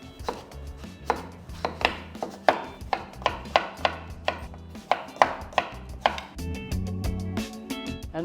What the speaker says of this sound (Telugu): మ్యాంగో చేపల పులుసుకి మ్యాంగో కట్ చేసుకుందాం.